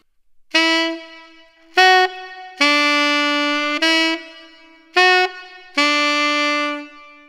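A tenor saxophone plays the second phrase of a song's hook, six crisp, close notes alternating between short punchy stabs and longer held tones, with no voice over it.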